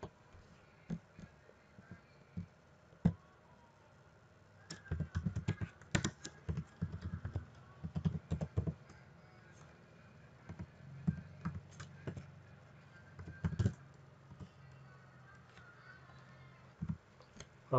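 Close computer keyboard typing in uneven bursts of clicks with scattered single key taps and pauses, including a Ctrl S shortcut press, with no one talking.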